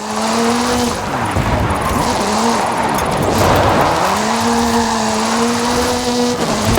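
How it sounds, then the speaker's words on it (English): Hoonigan Gymkhana 10 Ford Focus RS RX rally car with a 2-litre turbocharged front-mounted engine and all-wheel drive, drifting in Forza Horizon 5: a loud, close engine roar rises and dips while the tires squeal continuously through the slide. "Hoonigan Gymkhana 10 Ford Focus RS RX. 2-litre, turbocharged, front-mounted engine and all-wheel drive."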